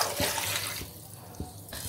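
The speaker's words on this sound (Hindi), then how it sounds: "और इसमें हम ऐड करेंगे 2 गिलास पानी।" Water poured from a glass into a cooking pot for paya (trotters) curry, a soft, steady splashing stream heard close and fairly quiet, with a couple of faint knocks.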